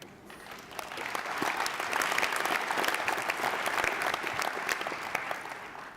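Applause rises from an audience at an RCSI conferring ceremony, swelling into an even, moderately distant wash of many hands clapping that tapers slightly toward the end.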